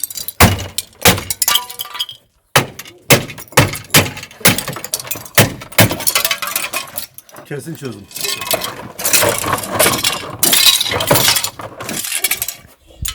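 Repeated sharp cracks and glassy clinks of plastic and glass as Tofaş Şahin car tail lights are smashed, loud and close, with brief voices between the blows.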